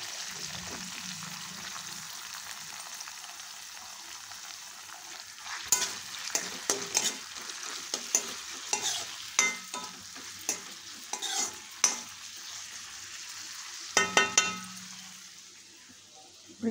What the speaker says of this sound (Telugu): కొద్దిగా బాండీలో నూనె వేసుకుని ఉల్లిపాయ పచ్చిమిరపకాయ కొత్తిమీర కరివేపాకు అన్నీ వేసుకుని ఫ్రై